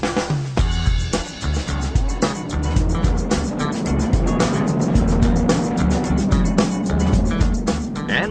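Racing cars roar away from the start of the 12th International Trophy Race at Silverstone, loud engines rising and blurring together into a dense continuous din with sharp bursts as the field pulls away.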